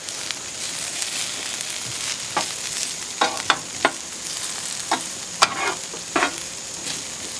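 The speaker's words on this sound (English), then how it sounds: "we got our fries going over here on the Blackstone" Fries fry in oil on a Blackstone griddle with a continuous soft sizzle, broken by scattered sharp scraping and clinking of a utensil turning them, close by with no voices.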